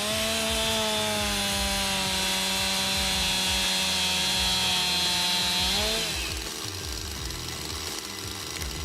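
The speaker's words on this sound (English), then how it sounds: "A chainsaw with a formidable powerful motor, this machine moves gracefully through the heart of the ancient wooden block" A big homemade chainsaw machine with a powerful motor cuts through a large old wooden log, its loud steady engine whine droning close, then dropping in pitch as the blade bites into the wood.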